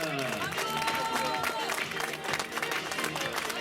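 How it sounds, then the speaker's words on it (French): Steady applause from a crowd at the 10 km prize ceremony of a road race in Seurre, France, dense and continuous throughout, with music or background voices mixed in. "Applaudissements pour Lionel!"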